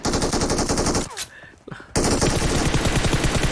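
Automatic gunfire in a shooter video game; rapid, loud, close bursts of shots, broken by a brief quiet gap before the firing resumes just as densely.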